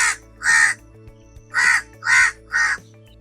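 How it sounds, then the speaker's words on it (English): Crow cawing in four loud, harsh calls, the first one alone and then three evenly spaced in a row, clear and close over a faint steady background hum. "It is of a crow."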